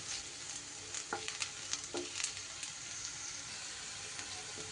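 Potatoes and onions fry softly in a pan with a steady sizzle, punctuated by a few light scraping stirs of a spatula.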